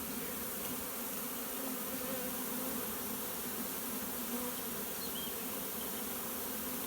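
A swarm of honey bees being hived, heard as a steady, dense buzzing drone that holds at an even level throughout, with no voices over it.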